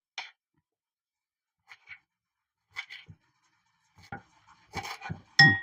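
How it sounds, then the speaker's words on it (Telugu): A knife chops fresh mint and coriander for a juice, a handful of sparse, crisp cuts against a board in near silence, quickening into several louder close strokes at the end. "ఇప్పుడు ఇది కట్ చేసుకుందాం."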